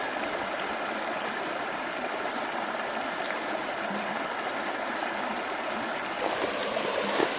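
A small stream trickles and flows steadily into a pond along a lake trail, a continuous close babbling rush of water with no voices.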